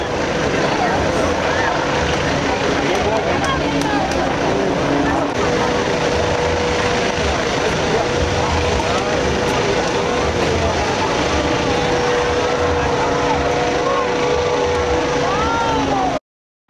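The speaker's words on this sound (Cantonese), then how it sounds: "咁佢中途會有啲唔同嘅表演，就好似而家呢個飛機嘅表演咁。" Aircraft performing at an air show over Sydney, a loud, steady engine roar and drone that holds throughout, mixed with a busy crowd and speech-like chatter.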